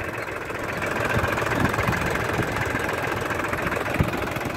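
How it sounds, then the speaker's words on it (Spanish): Sonalika 60 RX tractor engine working a field being prepared for rice, a steady mid-pitched diesel drone with faint knocking, continuous and fairly close, no voices. "veremos cómo trabaja lo que es el tractor Sonalica 60RX"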